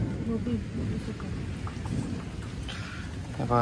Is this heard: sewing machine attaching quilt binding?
no